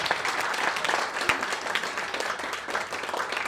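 A crowd applauds at a biopic trailer and music launch, continuous thick clapping from many hands, fairly loud and sustained with one sharper clap standing out briefly.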